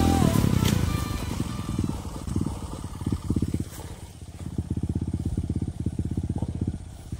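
A motorcycle engine revving and rumbling up close on an uphill trail, pulsing throttle bursts rising and falling, with a sharp clatter at the start.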